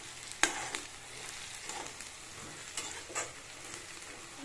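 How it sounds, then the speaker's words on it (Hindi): Onions fry and brown in a pan for chilli chicken, a soft continuous sizzle broken by a few sharper crackles and stirring scrapes, fairly close and alone. "और ये ओनियन ब्राउन हो रहा है।"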